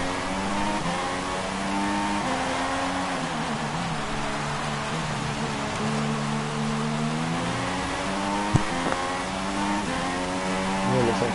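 Simulated GP2 race car engine from F1 2016 on a Spain league race, a steady high-revving drone with shifting harmonic pitch as the car is thrown around, one brief sharp click near the end, no talking.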